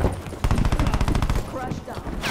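Rapid automatic gunfire in a Call of Duty multiplayer match, a dense loud burst of rattling shots starting after a brief lull and continuing steadily, with a player's voice talking over it.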